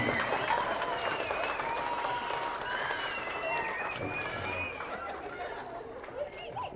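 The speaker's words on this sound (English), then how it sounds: "Let's applaud for Sean's best friend." Children at an elementary school event at the San Antonio Book Festival applaud steadily, a continuous wash of clapping with high voices and chatter woven through.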